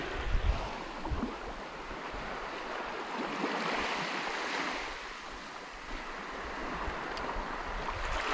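Sea waves wash steadily onto a sandy beach during a fishing outing, a continuous broadband surf roar with gentle swells and some wind buffeting, loud and close throughout.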